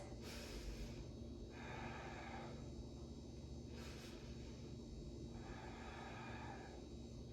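Slow, deep breaths during a Bikram yoga pose: about four long inhales and exhales, each a soft airy rush, over a steady low hum of room noise.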